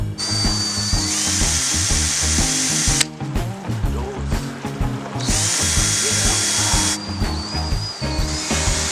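A power drill whines loudly and continuously, pausing briefly then starting again as it bores a hole in a 6.5 hp scooter part, with a high-pitched motor tone.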